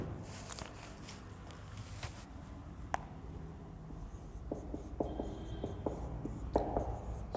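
Hand writing on paper or a board during a Hindi grammar lesson, soft scratchy strokes and taps, quiet and close against a low room hum, with no talking.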